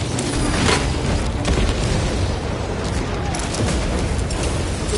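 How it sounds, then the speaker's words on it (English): Frag grenades detonate in Space Marine 2 amid constant battlefield noise, a dense roar of booms and bursts with a few sharper blasts standing out, and a voice speaks briefly over the din. "Deploying frag grenade."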